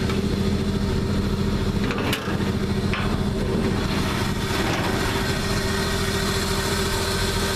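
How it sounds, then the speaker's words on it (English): 1949 Chevy pickup with a rebuilt 235 inline-six idling nearby, a loud steady even rumble with a constant hum and no pauses, no talking over it. "So we have a brand new rebuilt 235 inline 6, an original engine."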